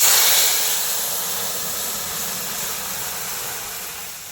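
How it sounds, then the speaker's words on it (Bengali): Dal pours into a hot white mustard seed tempering and sets off a loud rushing hiss that is strongest at the start and slowly fades as it settles. "সাদা সর্ষে দিয়ে দিলাম ডালটা ঢেলে দিই"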